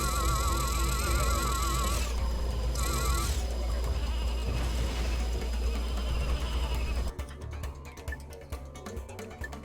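Repeated sheep bleats in Ratchet and Clank: Going Commando, layered over electronic game music and effects, with a bleat standing out clearly near the end.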